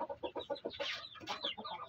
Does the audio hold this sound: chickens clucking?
yes